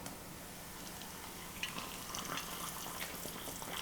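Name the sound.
hot water poured over instant fried noodles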